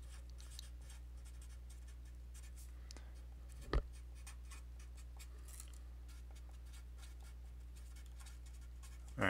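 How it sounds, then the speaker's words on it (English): A pen scratches out a handwritten note beside a linear algebra lesson, a faint, steady scribbling in a quiet room with one sharp tap partway through. "I'll write this note off to the side here."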